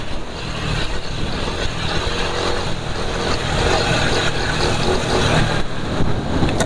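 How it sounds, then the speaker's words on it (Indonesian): A car engine running on thin oil mixed with silicone oil and zinc sulfate additive, a loud rough hum with low rumble and road noise, steady throughout without voices. "Jadi suara mesin memang nggak begitu halus karena memang olinya termasuk oli agak encer."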